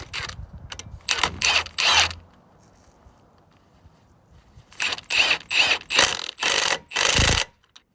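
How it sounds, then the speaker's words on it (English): A ratchet wrench tightening a bolt on the rear axle of a John Deere 990 tractor, two bursts of rapid clicking strokes separated by a quiet pause, close and fairly loud. "we're going to put our bolt back through it, get her tightened down"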